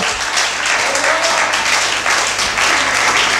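A church congregation applauding during a sermon, a dense, loud, continuous wash of clapping from many hands filling the hall without a break.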